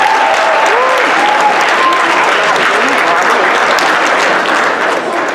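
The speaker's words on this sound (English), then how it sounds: "let's have a nice North Star round of applause for Mr. Vance Johnson." Students at a school drug awareness assembly give a guest speaker a loud, continuous round of applause, dense clapping throughout with a few faint cheers or voices mixed in before it tapers slightly at the end.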